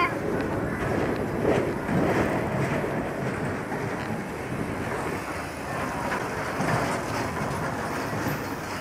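A fun fair ghost train ride rolling along its track at a Blackburn fair, a steady rumbling clatter with wind buffeting the microphone and faint voices underneath.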